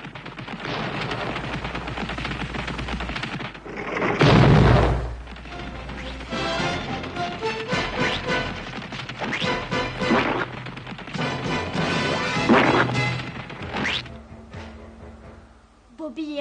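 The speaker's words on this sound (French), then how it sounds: "Bombe larguée!" A cartoon bomb explodes with a loud booming blast after it is dropped, followed by crackling, clattering bursts and busy cartoon sound effects, with voices briefly heard.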